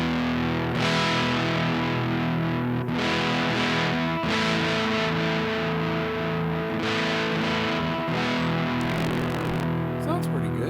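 Distorted electric guitar from a budget TEMU Les Paul on the middle pickup position, strummed chords with a crunchy, chorus-tinged tone ringing out continuously, with a brief scrape of pick noise near the end.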